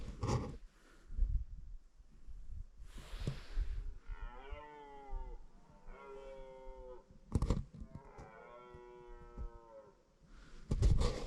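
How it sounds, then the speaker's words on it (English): A red deer stag in Otago tussock country lets out three drawn-out, groaning roars in reply, each lasting a second or two, moderately distant, with rustling and handling noises between them. "Got a stag replying somewhere over this way."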